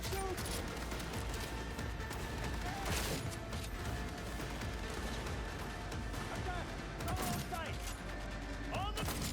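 Rapid gunfire from a shootout in Cyberpunk 2077, dense bursts of shots with mechanical clatter running continuously at a steady loud level, with a voice talking over the action.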